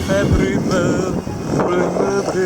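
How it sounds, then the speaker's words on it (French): A sailboat's engine motoring into a port at the north of Sal island, a steady continuous drone with strong wind buffeting the microphone throughout. "On affale les voiles et mettons le moteur en marche afin d'entrer dans le port au nord de l'île de Sal"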